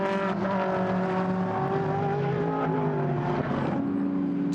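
GT race cars, including a Mercedes, roar past at Paul Ricard circuit during a Blancpain GT Sports Club race, with loud sustained engine notes shifting in pitch as the cars sweep by close together, no talk over it.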